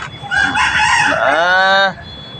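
A gamecock crows once, close and loud, a rising then sustained cock-a-doodle-doo lasting about a second and a half.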